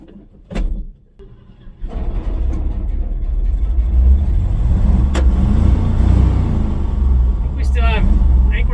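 A Ford F-100 truck engine with carburetor trouble runs roughly and unevenly after starting, loud and close, its low rumble sputtering as it floods, with a sharp knock near the start and brief clunks near the end.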